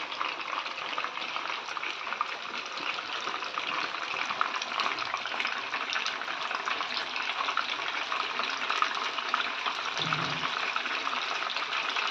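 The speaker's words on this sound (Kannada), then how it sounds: "ಮೀನು ನೋಡಿ ಹೆಂಗೆ ಫ್ರೈ ಆಗ್ತಾ ಇದೆ ನೋಡಿ" Fish fries steadily in a pan, a dense, even crackling sizzle that holds for the whole stretch, close and moderately loud with no voices over it.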